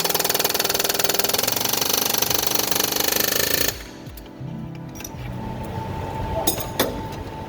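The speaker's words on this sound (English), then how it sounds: "Now it's air hammer time" An air hammer rattles rapidly and loudly against the fan clutch of a 2009 6.4 diesel for several seconds, then stops abruptly, leaving quieter metallic clinks and handling noise.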